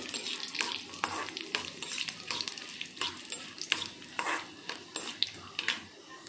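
Dried red chilies frying in hot oil, a soft steady sizzle broken by repeated scraping stirs from a spoon in the pan, fairly quiet and close.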